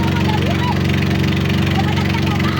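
A motorcycle engine idles steadily at a village fiesta, a continuous low rumble with a fast regular pulse that runs throughout the clip, while voices and crowd noise carry over it.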